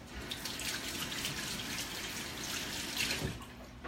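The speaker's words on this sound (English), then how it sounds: "let me rinse my hands off" Hands rinsed under a running kitchen tap, a steady broadband gush of water splashing into a sink for the whole stretch, close and fairly loud, with no talking.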